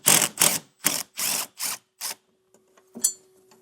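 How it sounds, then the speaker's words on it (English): Socket ratchet loosening a 10mm bolt that holds a bracket on a 2018 Toyota Highlander, heard as a series of six crisp ratcheting bursts in quick rhythm, followed by a couple of faint clicks and one last sharp tap, close up with no talking. "Now we'll take a 10mm socket and remove this bolt that's holding this bracket up"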